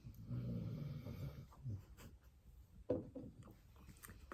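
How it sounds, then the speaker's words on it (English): Pet dog Sprocket snores in low, rumbling breaths, a drawn-out snore in the first second and a half, then quieter irregular breathing with a sharper snort near the three-second mark. "the snoring's getting louder, Sprocket"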